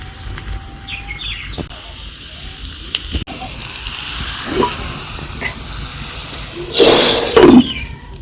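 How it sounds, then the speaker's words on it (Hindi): Garlic and cumin hit hot mustard oil for a tadka while cooking outdoors over a village fire: a sudden loud hissing sizzle bursts out near the end, after quiet open-air ambience with faint birds. "डाल दिया सरसों का तेल, तेल गरम हो गया था, डाल दिया है लहसुन ढेर सारा और डाल दिया है जीरा।"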